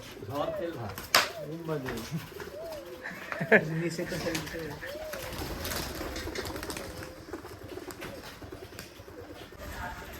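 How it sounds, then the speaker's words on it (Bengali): Pigeons kept for betting races coo repeatedly on a pigeon farm, with soft rolling calls close by. There are occasional sharp knocks and flaps, and faint voices run underneath. "সত্যি ভালো কবুতর এটা"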